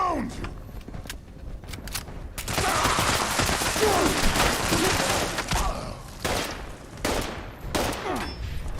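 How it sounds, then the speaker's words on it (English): Gunfire aimed at a player in Fallout 76 cracks out in rapid bursts and scattered single shots, fairly near, over ambient game noise, with a voice speaking briefly. "Who's shooting me from fucking where?"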